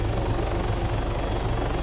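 Steady close rotor drone and engine whine from a helicopter in the Arma 3 video game, constant and loud for the whole short stretch, with no talking over it.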